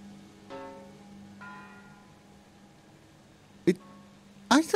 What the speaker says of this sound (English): I thought I was hearing bells from a church